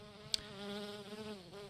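A queen bee in the Wii game Dead Rising: Chop Till You Drop gives off a steady, nasal insect buzz, faint but sustained with a wavering pitch, broken by one brief sharp click near the start, with no voices.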